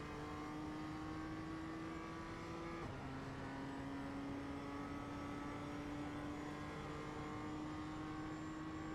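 A BMW M2 race car in iRacing at the Charlotte Roval accelerates out of a corner in second gear, its engine note climbing steadily and loud throughout, with a brief shift dip partway through and no talking.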